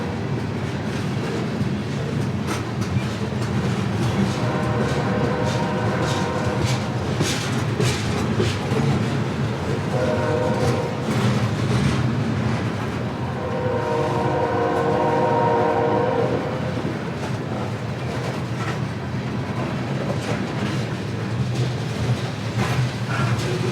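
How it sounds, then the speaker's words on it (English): A BNSF grain shuttle freight train passes through a town, its steady rumble and wheel clatter loud throughout, with repeated horn blasts echoing off nearby buildings. "Some nice echo is heard as the train continues through town."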